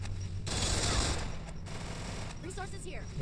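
Rapid gunfire bursts from a shooter in the battle-royale game Free Fire, a dense loud volley in the first second followed by lighter shots and electronic game chirps near the end.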